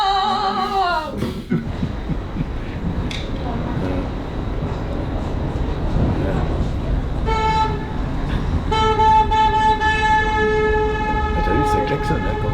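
Vehicle horns honk repeatedly in a busy street during an activist action, sustained toots sounding loud and near over steady traffic rumble, with people talking nearby.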